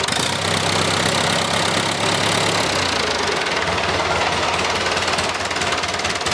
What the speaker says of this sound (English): So I'm going to crank up the engine a bit so the circuit is triggered.